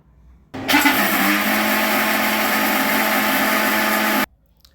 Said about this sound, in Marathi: त्यामध्ये दोन हिरव्या मिरच्या पाच सहा लसूण पाकळ्या आलं जिरं ओवा घालून मिक्सरमध्ये वाटून घ्यायचं आहे